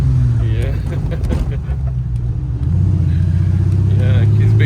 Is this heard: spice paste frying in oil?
no